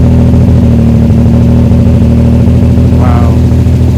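A 1939 Frazer Nash BMW 328 roadster's six-cylinder twin-cam engine idles steadily and loud up close, a continuous low throb held throughout, with a brief faint higher chirp near the end.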